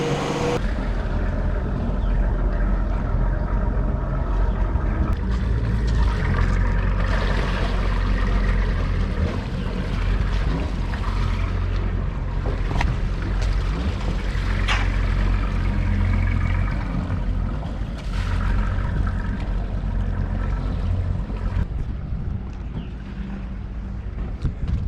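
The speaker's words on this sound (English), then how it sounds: "The engine started." A wooden boat's engine runs steadily after starting, a broad low rumble mixed with rushing and splashing water throughout, fairly close and continuous with no voices.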